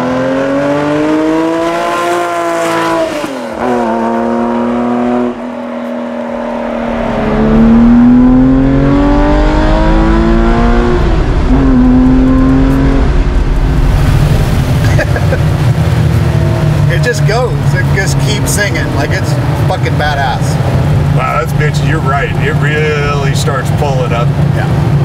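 A Porsche 964 engine revs hard while accelerating, its rising and falling harmonics sweeping up through the gears before settling into a loud, sustained drone, with a voice talking over it.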